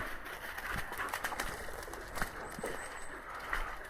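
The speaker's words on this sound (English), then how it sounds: "A few pigeons up." Pigeons flush and call outdoors along forestry tracks at a moderate distance, with faint rustling and a soft flap or two against steady background hiss.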